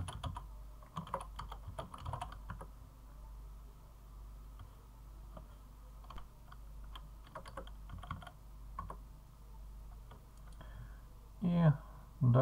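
Scattered keystrokes on a computer keyboard as a command is typed, light irregular clicks at low level over a steady background hum, with a couple of louder knocks near the end.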